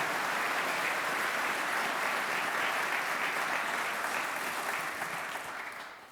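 Audience applause at a police chief swearing-in ceremony in Newton, honoring a police gala column and a police and fire honor guard; steady, dense clapping from a large crowd that fades slightly at the end.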